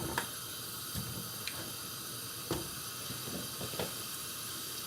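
Mushrooms sizzle in a bit of oil in a frying pan with a steady, quiet hiss, broken by a few faint clicks and spits.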